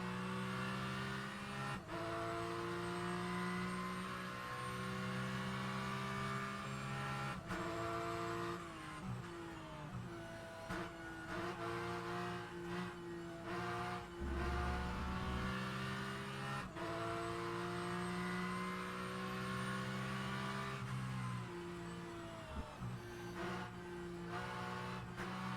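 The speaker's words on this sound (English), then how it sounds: "I will be silent for a bit to hear the engine and the car." A Porsche Cup race car in a racing video game at Silverstone howls through repeated high-revving acceleration runs, with sharp gear changes and dips between, heard steadily from onboard with no talk.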